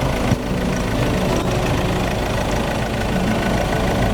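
A 2.2-litre TDCi diesel engine in a Ford Everest Titanium idles at close range, a constant low rumble with a faint knocking texture running evenly throughout.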